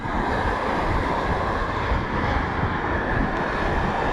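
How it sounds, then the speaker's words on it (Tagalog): Strong wind roars steadily over crashing surf, a dense, continuous rush of noise buffeting the microphone with no pauses. "lakas pa rin ang hangin"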